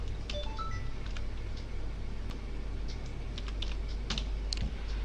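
Someone types a VLOOKUP formula into an Excel spreadsheet on a computer keyboard, sending out a quick, close run of soft key clicks over a low electrical hum.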